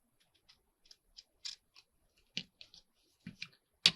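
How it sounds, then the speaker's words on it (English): Scissors snip along the edges of a paper collage board in a series of short, crisp cuts, spaced irregularly and growing louder near the end, with no talking. "We're going to trim these edges."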